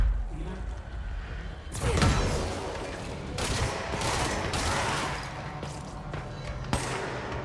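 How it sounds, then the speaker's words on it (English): Sniper rifle shots and other gunfire in the action game Control, with sharp loud reports and crackling bursts over a rumbling game background, and a player's voice talking now and then underneath. "That's a sniper rifle, and it's clearly cheating."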